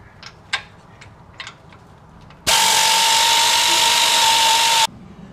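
A few faint clicks and clanks, then a loud, steady burst of an air tool running for about two seconds as it spins out the differential cover bolts on a Jeep JK Wrangler's rear Dana 60 axle.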